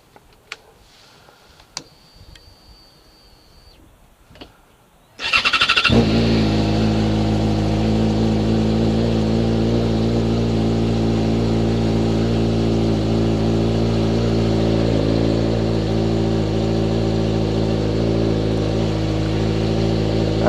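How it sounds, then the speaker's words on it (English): Yamaha FZ6R motorcycle engine cranks and fires after about five seconds of quiet, then settles into a loud, steady warm-up idle that runs unbroken close by. "I'm going to get this bike fired up. I'm going to warm it up."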